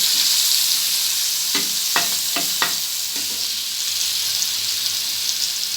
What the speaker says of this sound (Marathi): थोडी हळद पण छान परतून घ्यायची